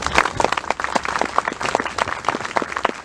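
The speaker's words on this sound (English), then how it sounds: "Nice round of applause." Warm, dense audience applause fills a short stretch at an outdoor Veterans Day ceremony in Fair Haven, New Jersey. It stays even and steady throughout with no talking over it.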